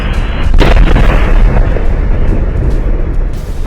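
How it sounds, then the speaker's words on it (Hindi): Oil refinery explosion in Port Arthur, Texas, a loud deep boom followed by a sustained roaring rumble that slowly eases, captured from a distance, no voices. "अमेरिका के राज्य टेक्सास में 23 मार्च को एक बड़ी तेल रिफाइनरी में धमाका हुआ"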